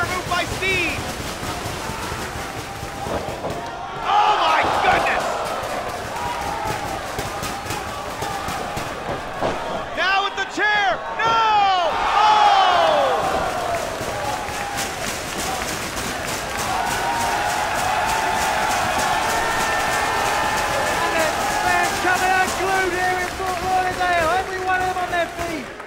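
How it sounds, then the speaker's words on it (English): A wrestling crowd at a last man standing match roars and cheers in sustained waves around a commentator's voice, swelling loud between about 10 and 13 seconds and again near the end. "You hear what the crowd thinks."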